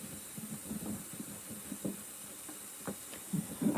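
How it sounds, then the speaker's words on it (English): Steam hissing inside an LG ThinQ Mega Ultimate washer running its self-clean steam cycle, a faint steady hiss with soft intermittent bumps and clicks underneath, fairly quiet throughout. "we're doing a steam cycle today and that's self-clean."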